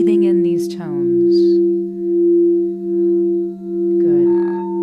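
Crystal singing bowls tuned to 432 Hz ring in a steady, sustained drone of layered pure tones, loud and close, with a soft voice speaking briefly at the start and again near the end.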